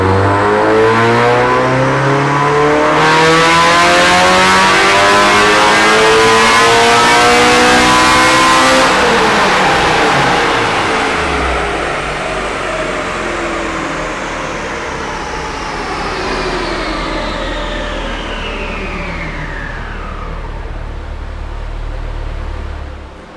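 A K24A-swapped Mazda Miata revs hard on a dyno, the engine climbing steadily in pitch through a long loud pull before backing off and winding down to a lower drone.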